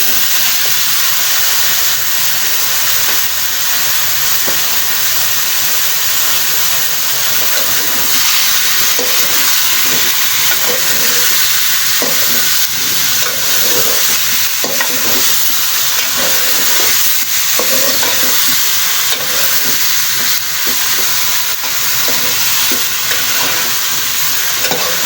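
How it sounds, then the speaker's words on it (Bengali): Ash gourd pieces added to a frying spice paste and stirred in a pan: loud continuous hiss and sizzle with steam and intermittent stirring scrapes, close and constant throughout, no talking. "এবার আমি জালি কুমড়ো আমি দিয়ে"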